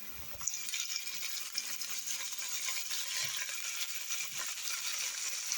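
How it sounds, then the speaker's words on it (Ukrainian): Onion and sausage sizzle in a frying pan, a steady, fairly quiet hiss and crackle that runs unbroken throughout, with a brief knock near the start. "І разом з цибулею підсмажую також до зарум'янення ковбаси."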